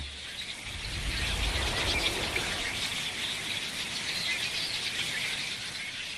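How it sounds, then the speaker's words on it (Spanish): A winter flock of red-winged blackbirds in North Carolina gives a dense, continuous chorus of high chirps and trills that holds steady throughout, with no voices. "Los reflejos de estos tordos alirrojos son tan veloces que, cuando un pájaro gira, todos los demás reaccionan al instante y la bandada se mueve al unísono."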